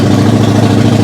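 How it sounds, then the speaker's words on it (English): A Honda VL250 bobber motorcycle engine runs loud and close in a short burst, a rough low throbbing idle right after starting, with no talk. "The important thing is the bike starts"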